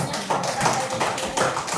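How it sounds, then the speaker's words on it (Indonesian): Children in a primary school classroom clap together in a scattered burst of applause, moderately loud and close, with a few distinct hand taps standing out. "Tepuk tangan untuk kelompok rantai."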